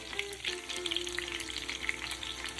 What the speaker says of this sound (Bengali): এবার মাছগুলো ভেজে নিই।